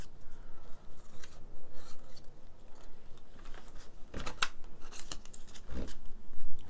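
Tape is cut with scissors for a junk journal page: a few quick, crisp snips and rustles, near and fairly quiet, spaced irregularly with handling noise between them and no talking.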